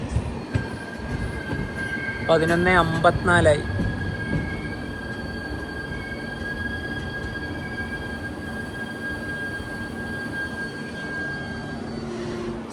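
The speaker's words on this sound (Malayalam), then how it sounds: "ട്രെയിൻ ഇപ്പോൾ മദാരി ഹാട്ട് റെയിൽവേ സ്റ്റേഷനിലേക്ക് ഇതാ എത്തുകയാണ്." A tourist train with a Vistadome coach arrives at Madarihat railway station, its wheels squealing in a short wavering burst over a low rolling rumble, then a steady whine and soft rumble as it slows.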